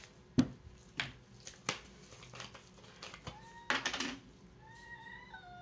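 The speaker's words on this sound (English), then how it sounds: "I have a cat that's wanting my attention." A Himalayan cat meows for attention indoors, a short rising call near the end after scattered taps and rustles from hands at work.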